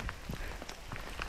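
Hailstones of small ice-pellet size fall outdoors during a summer hike in a national park, producing scattered, irregular ticks and taps over a steady wash of noise.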